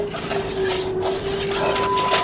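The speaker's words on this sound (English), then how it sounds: "Steering? I hear a loud whining." A car with a dead battery gives off a loud, steady high-pitched whine from the steering or transmission, a sustained tone over mechanical clatter and hum.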